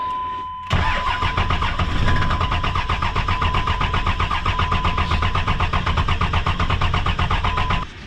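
A dually pickup truck engine cranks after a brief pause, catches and runs steadily in 12-degree cold, struggling with clogged fuel filters; loud and close, with a constant drone and rapid pulsing rhythm throughout.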